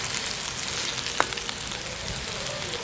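Chopped onions sautéing in oil in a pan for a Tamil lentil chutney, a steady soft sizzle throughout with one faint clink partway through, no talking.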